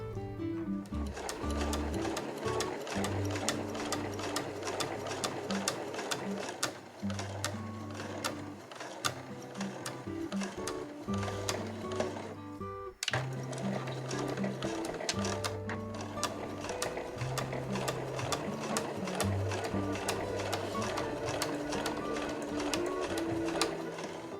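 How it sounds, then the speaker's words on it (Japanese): A sewing machine fitted with a zipper presser foot stitches along the sides of a fur tote bag. Its rapid, steady mechanical rattle runs almost without a break, with one short pause partway through. "ファスナーを使う時に使うような肩押さえを使って縫っていきます。"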